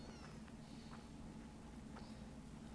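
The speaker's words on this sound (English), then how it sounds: "They're like meowing possums." Small cute creatures in Monster Hunter Wilds give faint, possum-like meows, a few short high cries over a steady low background hum.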